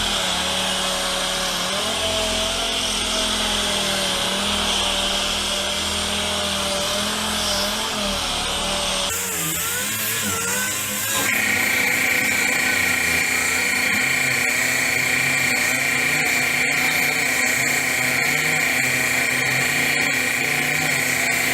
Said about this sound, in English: Let me start sanding it, putting some water into it so that you can see how this machine works.